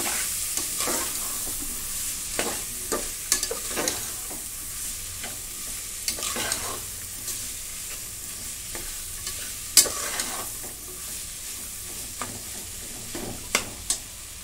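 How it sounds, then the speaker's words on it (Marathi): A spoon stirs potato, carrot, cauliflower and green peas in a hot pan for masala rice, with steady sizzling frying underneath and repeated sharp scraping clicks against the metal, close and alone. "गाजर, फ्लावर आणि हिरवा वाटाणा. आपण सगळं मिक्स करून घेऊ."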